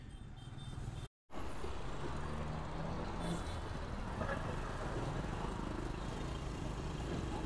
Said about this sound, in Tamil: ஏன்னா ஃபுல் டிராஃபிக்கு